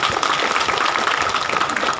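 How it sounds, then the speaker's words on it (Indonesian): Audience applause from a large crowd of worshippers at a religious sermon gathering in Mandailing Julu, steady and dense clapping filling the whole stretch without pause. "Dr. Andes Haji Dahlan Hasan Nasution, tepuk tangan untuk beliau"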